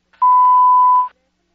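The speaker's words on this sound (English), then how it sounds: "please do so after the sound of the beep." An answering machine at an office gives a single steady electronic beep lasting about a second, loud and clean against silence.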